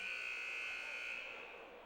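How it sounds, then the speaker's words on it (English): A basketball game buzzer, Dexter vs Richland, holds one steady, loud electronic tone for nearly two seconds that fades slightly at the end, with no talking over it. "The buzzer sounds."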